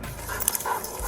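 Red, a police K9, gives a few short whimpers and yips up close at a garbage-filled yard, with the dog's sounds rising and breaking off over a noisy background.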